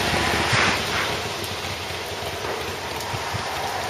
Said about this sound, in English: Just starting to chuck it down with rain now.